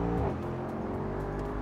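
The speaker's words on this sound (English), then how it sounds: "Let's give them a couple downshifts there." Mercedes-AMG SL 55 with a 4-liter bi-turbo engine revving on a downshift, a brief throaty rise from inside the car that settles into a steady drone.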